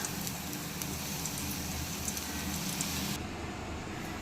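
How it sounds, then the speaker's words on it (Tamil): Bread pieces roast in oil in a pan, giving a steady, dense sizzle and crackle that stays close and constant throughout and fades a little toward the end, with no talk. "இப்போ இதே மாதிரி மற்ற எல்லா ப்ரெட்டையும் நம்ம ரோஸ்ட் பண்ணி எடுத்துக்கலாம்"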